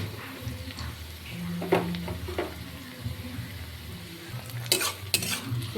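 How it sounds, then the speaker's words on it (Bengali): Dried fish frying in oil in a pan while kochur loti is being cooked, with a steady close sizzle and a few scraping, stirring clatters of a utensil against the pan. "শুকনা মাছটা আমি আরও 1-2 মিনিট ভেজে নিব।"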